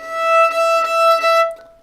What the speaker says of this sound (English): If we press too hard, we will of course hear the fourth finger played regularly